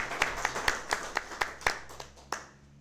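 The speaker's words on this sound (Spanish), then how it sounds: "Fuerte aplauso, por favor" Audience at a Bolivian studies journal presentation applauding briefly, a sparse run of about ten distinct claps that thins out and fades, moderately near.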